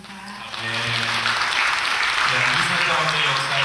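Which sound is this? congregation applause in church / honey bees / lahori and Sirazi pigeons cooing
congregation applause in church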